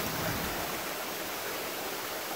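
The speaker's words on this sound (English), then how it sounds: "You can see how much water comes out." Rainwater pours out of a home-built collection system in Texas, a steady, dense rushing splash that stays even and close throughout, with no voices.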